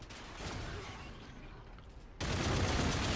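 Dense gunfire in a Call of Duty: Infinite Warfare multiplayer match, with rapid shots that build steadily and then jump to a loud, continuous barrage near the end.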